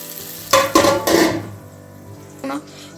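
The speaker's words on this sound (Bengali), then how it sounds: "এদিকে এখন বসিয়েছি একটু পটল ভাজা" Sliced pointed gourd frying in a pan with turmeric and salt, heard as a few loud bursts of sizzling and stirring clatter, then quieter frying and a brief clank near the end.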